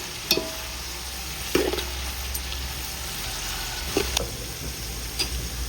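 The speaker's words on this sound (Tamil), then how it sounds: "வெங்காயம் சீக்கிரமாக வதங்கணுங்க" Chopped onions with green chilies sauté in a pan for a coconut milk biryani, giving a steady low sizzle broken by a few sharp clinks and scrapes of a spoon stirring against the pan.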